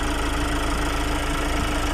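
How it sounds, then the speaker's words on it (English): A 2022 Kia Carnival's small 2.2-liter diesel engine idles with a steady, even rumble and hiss, heard close and alone with no voices over it. "It's a small diesel engine,"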